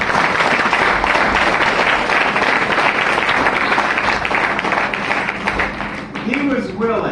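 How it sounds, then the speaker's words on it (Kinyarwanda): A church congregation applauds loudly in a dense, continuous burst of clapping that fades near the end as a voice begins speaking. "Mbega amashyi."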